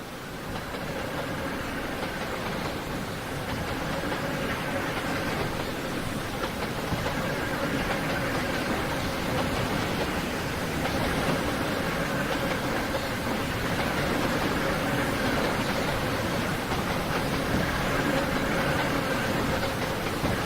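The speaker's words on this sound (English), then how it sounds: "We're gonna get to see the entire train go by." A long freight train rumbling past steadily at close range, a continuous broadband roar with faint wheel clatter that holds level for the whole stretch, with no talking over it.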